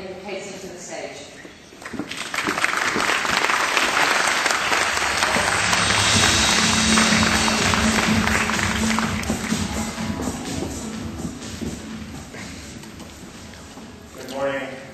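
A conference audience at a 2010 Tokyo ad-tech event breaks into sustained, loud applause that swells after a brief quiet opening, holds steady, then gradually fades toward the end.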